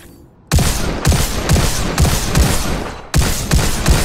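Rapid, loud gunfire from the VR shooter Robo Recall, a run of heavy repeated shots in two bursts separated by a brief gap, close and punchy with no voices.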